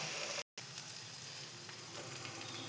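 Chopped green beans sizzle in a pan with turmeric for a Kerala-style payar mezhukkupuratti, a steady close hiss of frying broken by one brief dropout near the start, with no talking.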